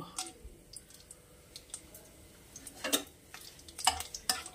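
Whole cardamom, cinnamon and clove hit hot oil and give off a scattered, irregular crackle of sharp pops and clicks over a faint sizzle. The sound is close and fairly quiet, with a little speech in the background.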